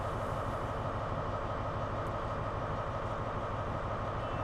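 A New South Wales XPT high-speed train in Train Sim World gives off a steady, broadband rumble and rolling noise, continuous and even throughout, with no talking.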